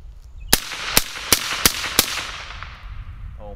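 Rapid semi-automatic gunfire from an AR-style rifle fed with C Products banana magazines: five sharp, loud shots in quick succession, each followed by a decaying echo, with no talking.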